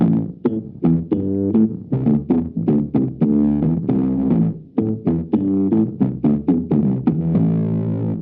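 Electric guitar through a Boss synthesizer pedal in an effects loop of a KMA Machines Tyler Deluxe, playing low rhythmic picked notes with a thick, buzzy synth tone, loud and sustained.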